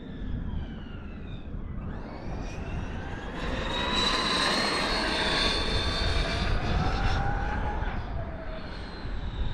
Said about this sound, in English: This thing, that TP motor sounds like a jet.